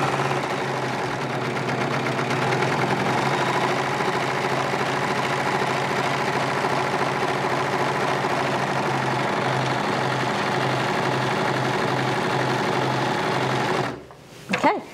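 A Bernette B44 serger stitching a rolled hem, a steady fast mechanical whir with rhythmic needle clatter running evenly, then stopping abruptly near the end with a couple of small knocks.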